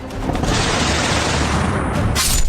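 Dense, heavy gunfire from fighting between Afghanistan and Pakistan crackles and booms continuously with no pause, loud and harsh, sounding like many weapons firing at once.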